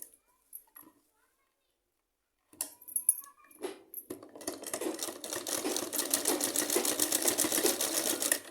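An electric sewing machine stitching a salwar: a few scattered clicks and handling noises, then a rapid, even run of stitching that builds and holds steady to the end.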